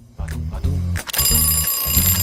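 An alarm clock rings loudly and continuously in a children's play setting, its bright metallic jangle steady throughout, with a brief pause before it resumes at full volume.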